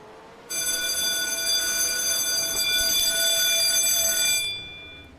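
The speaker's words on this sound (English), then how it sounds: "Someone set off the fire alarm." A fire alarm rings at the Detroit Street Circuit, a steady shrill electronic tone that sounds for about four seconds against quiet background noise and then cuts off.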